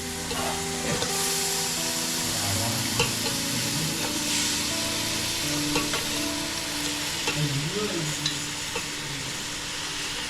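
Goat mutton sizzles loudly as it goes into a hot pan, with steady frying crackle and stirring scrapes running throughout, close and continuous.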